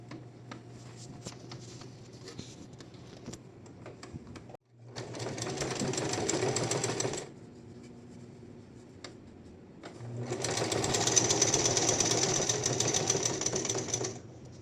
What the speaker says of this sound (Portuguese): eu vou começar a costurar primeiro essa parte reta